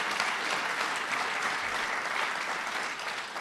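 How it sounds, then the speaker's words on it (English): Dense, sustained applause from a large crowd of entourages fills the room with steady clapping, fading slightly at the end. "Their entourages clapped and whooped."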